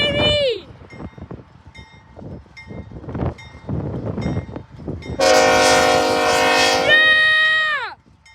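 A CSX freight train rumbles past a crossing and blasts its horn in a long sustained chord that ends with a falling pitch, loud and close, after an earlier short horn note, with excited shouting from onlookers.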